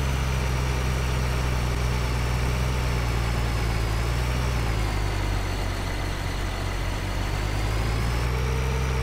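A tractor engine from Farming Simulator 2013 drones loudly and steadily, a deep constant idle-like rumble with a slight pitch shift midway, no voices.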